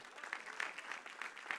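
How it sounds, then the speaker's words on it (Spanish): Church congregation applauding, a fairly faint, even patter of clapping that comes across as distant and sustained. "si vas a dar un aplauso, dáselo bien fuerte al Señor"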